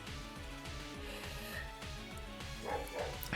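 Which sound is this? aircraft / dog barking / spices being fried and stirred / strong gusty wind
dog barking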